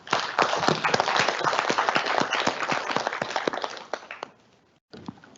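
An audience at a Glasgow climate-justice funding event breaks into dense, lively clapping that lasts about four seconds, then thins out and dies away into a brief silence.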